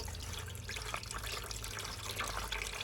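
Water carrying a little floating oil drains steadily out of a heating system, a continuous close rushing, trickling flow with no talk over it.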